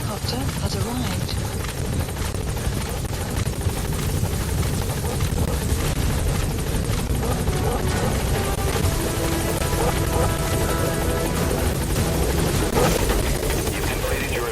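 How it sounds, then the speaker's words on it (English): A support helicopter in Metal Gear Solid V hovers close by, its rotor making a loud, continuous chopping roar throughout, with game voices talking over it. "Support helicopter has arrived."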